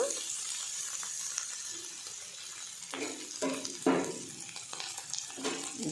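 Arum roots tipped into a pan of browned fried onions, a moderate steady sizzle broken by several louder splashing bursts as pieces hit the hot oil.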